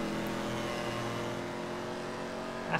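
Police car Ruiner engine in GTA FiveM holds a steady, sustained revving drone, loud and continuous with no voices.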